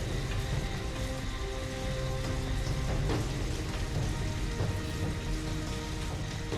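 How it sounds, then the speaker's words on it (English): Heavy rain pours down steadily, a dense continuous patter drumming on surfaces with no voices. "it's raining heavily"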